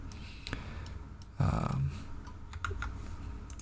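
Computer keyboard keys tapped while modeling in Blender, heard as a few sparse, close clicks and taps spread through a quiet room.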